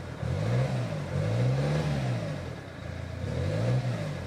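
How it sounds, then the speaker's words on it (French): A 2020 Peugeot Partner 1.5 HDi 56 kW diesel engine being revved repeatedly, rising and falling surges over a steady mid-pitched drone, loud and close, with no talk. "Donne des coups de gaz!"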